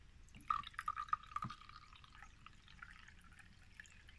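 Tea poured from a pot through a strainer into a cup: a short, faint trickle with a few bright drips and splashes, then fading to quiet room sound.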